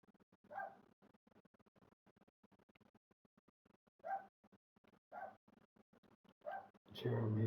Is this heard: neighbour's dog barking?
yes